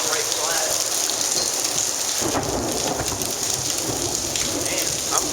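Heavy rain pours steadily during a Dallas, Texas thunderstorm, with a rumble of thunder rising near the middle. Faint voices murmur beneath the downpour.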